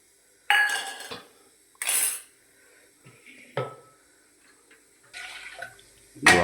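Rice being washed in water in a pot before going into a pressure cooker for a home lunch, with bursts of sloshing and rinsing, a few clinks against the vessel, and quiet pauses between.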